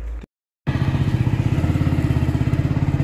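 A motorcycle engine runs close by with a steady, rapid rhythmic thumping, starting abruptly after a brief silence and holding loud and even throughout.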